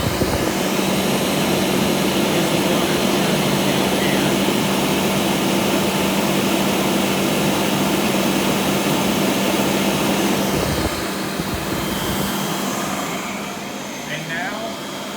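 A Rainbow D4C SE canister vacuum motor runs with a loud, steady whirring roar and a constant tonal hum, then winds down and fades near the end.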